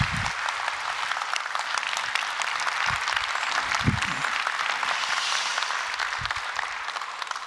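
A church congregation applauding during a Sunday service, a sustained crowd of clapping hands filling the room, steady and fairly loud with some low murmurs beneath.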